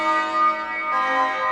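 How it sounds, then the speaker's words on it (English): Deafening, massive church bells ring out loud and sustained, with a second strike adding to the first partway through as the tones hang and overlap. "They sounded like massive church bells being struck with a sledgehammer just inches above his head."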